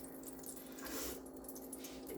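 Hot oil in a pot for red beans and rice spits and crackles steadily, a soft continuous sizzle with fine popping, close and fairly quiet, with no voices.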